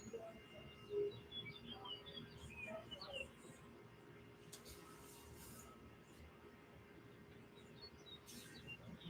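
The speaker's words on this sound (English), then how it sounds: "See if you can hear like the birds and everything" Faint outdoor ambience with a few distant bird chirps scattered over a soft, steady background hush, quiet and far, with no talk during the pause.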